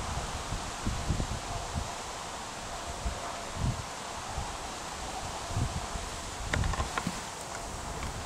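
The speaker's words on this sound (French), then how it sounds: "je laisse passer le vent parce qu'il y a beaucoup de vent" Strong outdoor wind roars steadily into the microphone for the whole stretch, with rustling gusts and brief bumps of handling noise, no voice heard.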